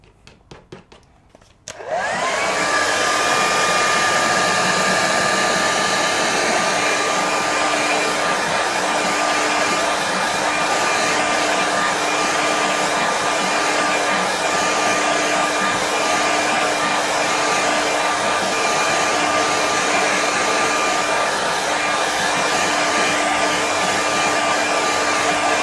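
A hair dryer blows steadily on a watercolour painting of trees, switching on after a brief quiet moment and then roaring loud and close with a constant whine for the rest of the clip.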